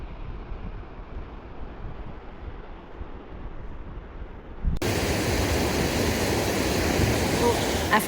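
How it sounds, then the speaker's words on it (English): A waterfall rushes beneath a small bridge near Reine in Lofoten, Norway, a broad steady roar that surges to full loudness partway through and stays dense and close after softer wind-like noise. "we crossed this small bridge over a waterfall"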